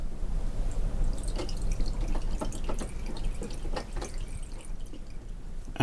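Water running from a tap through a rubber hose during an impeller change, a close steady trickle with irregular dripping and splashing, fairly quiet and continuous without talk.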